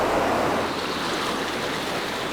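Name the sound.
fast river flowing through a cave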